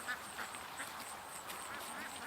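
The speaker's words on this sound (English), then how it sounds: "Oh, guys, found the Muscovy." A Muscovy duck on the water by a dock, giving a few quiet, raspy quacks spread over two seconds against soft outdoor background noise.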